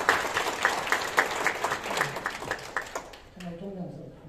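An audience gives thanks applause for chairman Kim Jong-in at a Korean event honoring UN veterans' grandchildren: brisk, rhythmic group clapping that gradually thins and fades, with a voice briefly speaking as it dies away.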